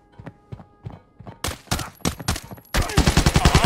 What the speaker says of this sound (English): Trying to get those long-range shots with an MP5, guys, not very easy.